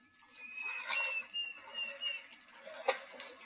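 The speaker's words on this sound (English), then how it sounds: "cuckoo calling in the background" A Diederik cuckoo calls at a waterhole in the Eastern Cape, giving faint, repeated thin whistled notes from a distance. The calls sit over soft outdoor ambience with a few light rustles.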